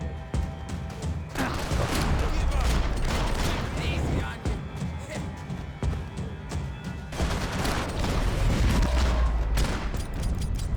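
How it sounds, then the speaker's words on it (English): Gunfire in the Max Payne video game, with repeated sharp shots and bursts of a firefight set over Hoboken, loud and dense, under a voice speaking. "Gunfire over Hoboken."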